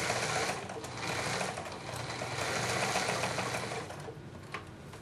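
Sewing machine hemming the edges of worship flags, a steady continuous mechanical whir with slight rhythmic chatter, running close and fairly loud throughout without any talk.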